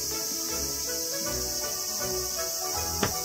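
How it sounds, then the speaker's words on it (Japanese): Cicadas buzz in summer heat outside an old Japanese farmhouse, a dense, continuous high-pitched drone that holds steady throughout, with a faint low thump or clatter near the end and no talking. "ほんとセミもミンミン鳴いてます。"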